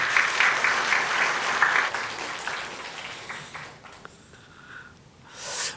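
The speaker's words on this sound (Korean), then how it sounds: "우리 박수해 주시기 바랍니다." A church congregation at a Korean intergenerational worship service breaks into warm clapping that swells early, then gradually tapers off, leaving scattered claps and a quiet room with a faint voice at the end.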